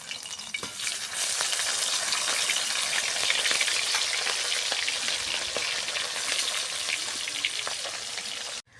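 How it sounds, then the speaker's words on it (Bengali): Khoira fish frying in hot oil alongside radish, a dense, steady sizzle and crackle that starts abruptly and holds loud and close for several seconds before cutting off. "মাছ ভাজা হয়ে গেছে"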